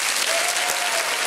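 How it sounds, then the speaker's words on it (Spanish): Studio audience applause on a Spanish TV comedy show, a dense, steady wash of clapping from a large crowd filling the whole moment without a break. "había que darle un buen aplauso"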